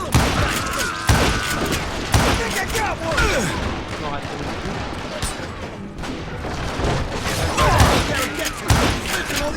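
Gunfire in the Western video game Call of Juarez: Gunslinger, with repeated shots and bursts cracking through a dense, busy battle mix. Shooting is nearly continuous across the scene and sounds loud and close.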